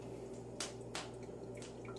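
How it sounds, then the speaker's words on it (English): Faint, sparse drips of water from a Big Berkey water filter land a few times against a low steady hum, quiet and close. "Now it's going to start running cloudy when the water starts coming out."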